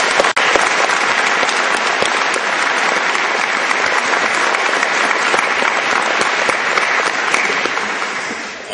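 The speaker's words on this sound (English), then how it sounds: "How about a round of applause for the folks that did this?" Audience at a Let Freedom Ring 2010 event applauding for junior ROTC volunteers, a broad sustained roar of clapping holding steady for several seconds before easing slightly at the end.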